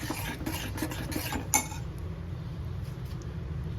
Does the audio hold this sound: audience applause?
no